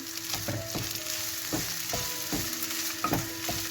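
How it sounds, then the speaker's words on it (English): Rice stirred into frying chicken in a single pot for a sweet and spicy chicken dish, giving a steady sizzle broken by repeated scraping strokes of a spoon against the pan, with no talking. "Let's throw in some rice. Let's stir that in."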